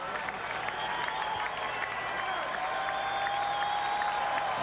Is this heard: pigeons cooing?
no